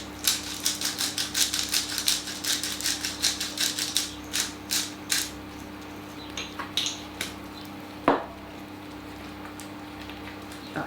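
A pepper grinder cranks over a pan of cheese sauce, giving a rapid run of dry crackling clicks that thins out into scattered ticks, close and fairly quiet.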